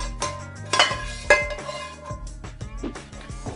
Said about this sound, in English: Okay, I'll just give these a little toss so everything has some coating on them.